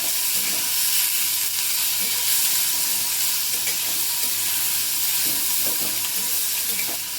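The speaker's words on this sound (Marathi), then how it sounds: "त्यामध्ये टोमॅटो घातले आणि टोमॅटो पण आपण परतून घेऊया।" Onion and tomato sautéing in a pan over a high flame, with ginger and garlic going in, giving a loud, dense, continuous frying hiss with faint stirring scrapes throughout, close by and without speech.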